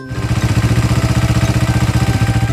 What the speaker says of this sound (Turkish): Motosiklet giderken işte böyle ses çıkarır.